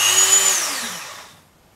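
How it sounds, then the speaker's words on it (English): A Dremel rotary tool gives a high-pitched whine that spins down and fades out over about a second and a half, close and fairly loud. "This will require a Dremel."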